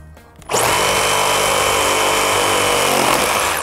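Makita JR002G cordless reciprocating saw in orbital mode cutting through a wooden pallet, starting abruptly into a loud, continuous buzzing roar that holds steady for about three seconds up close.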